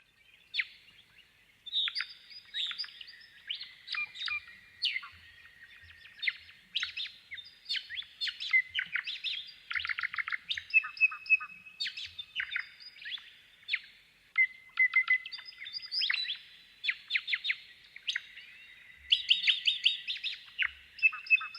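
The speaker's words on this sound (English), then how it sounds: "here are a pair of white-fronted honeyeaters doing just that" A pair of white-fronted honeyeaters sing in duet, bright rapid chirps and twittering phrases trading back and forth in bursts with short pauses, fairly close and clear against a quiet background.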